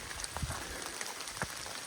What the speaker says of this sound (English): Get out of this rain because it ain't stopping.